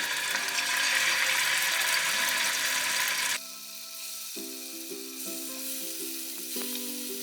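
Chicken pieces fry in hot sunflower oil in a pan with a loud, dense, close sizzle that suddenly drops to a softer, steadier crackle partway through, with no talking.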